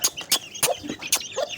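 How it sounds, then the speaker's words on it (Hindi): Pet chickens kept in a cage make several short, fairly faint clucks and squawks in quick irregular bursts. "आज हम अपनी मुर्गियों को देख रहे हैं"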